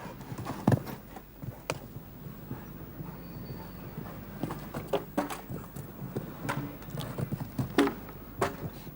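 Hoofbeats of a show jumping horse during a round at the FEI European Jumping Championships in Donaueschingen, Germany: irregular thuds and clip-clops at moderate distance over a quiet arena ambience, with no talk.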